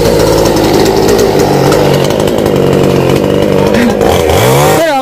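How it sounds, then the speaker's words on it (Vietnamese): Chainsaw cutting through coconut tree trunks outdoors, loud and close, a steady droning engine whine that holds throughout before bogging down and revving at the end. "nãy bác Năm nhờ ba của Hoa cưa ba cây dừa"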